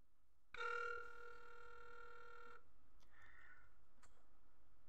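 A single electronic ringing tone from an outgoing call on a PinePhone Pro running Arch Linux ARM with Phosh sounds for about two seconds, then a few faint clicks and a short beep follow over quiet hiss.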